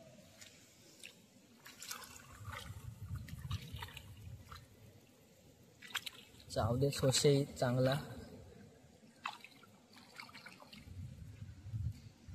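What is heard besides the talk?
water flowing from a pipe into a rice field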